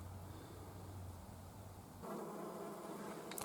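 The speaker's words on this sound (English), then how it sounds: "Here we have a bee." A honeybee buzzing on a nature trail among orange sticky monkey flowers in Ojai's Horn Canyon, a faint, steady low drone that shifts pitch partway through against quiet outdoor background.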